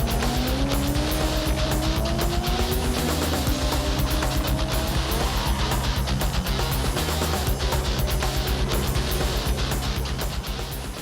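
A fast SUV in a grudge run race roars with a loud engine and screeching tire squeal. The noise is dense and constant from start to finish, right up close, with no voices.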